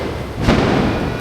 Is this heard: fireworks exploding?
yes